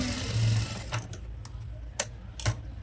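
A sewing machine runs steadily while stitching a double seam on a nightie, a close whirring motor drone followed by several sharp clicks and taps as the work is adjusted.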